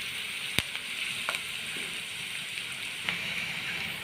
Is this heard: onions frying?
yes